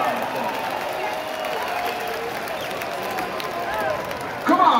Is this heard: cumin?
no